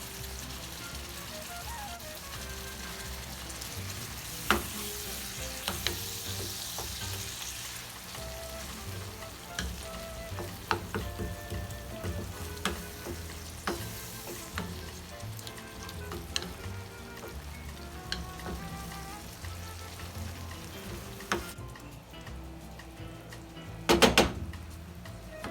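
Meat sauce mixed with pasta sauce cooks down in a pan, a soft steady sizzle and bubbling with occasional spoon stirs and clinks against the pan, ending in a brief clatter.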